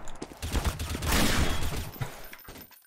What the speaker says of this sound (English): Rock, don't shoot her! I don't have any gun